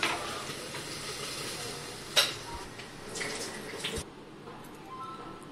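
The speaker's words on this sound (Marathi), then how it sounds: "आता आपण कुकरच्या 3 शिट्ट्या करून घेऊया।" A pressure cooker on the stove cooking chana dal releases a steady hiss of steam, with a sharp louder burst partway through and fainter gusts after.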